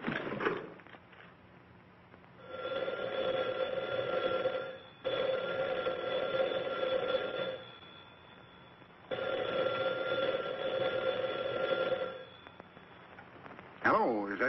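A private telephone in a 1943 Western rings in two long bursts separated by a pause, loud and close, with a brief clatter at the end.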